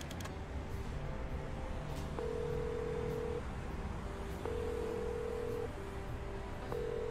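Old-fashioned telephone dialing in the detective video game Chicken Police: a series of steady, even tones, each held for about a second with short gaps between them, over a constant low background hum.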